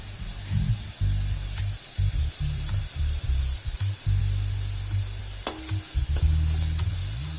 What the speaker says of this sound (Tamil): பூண்டு நல்லா வதங்கிருச்சு. பூண்டு பச்சை மிளகாய் எல்லாம்.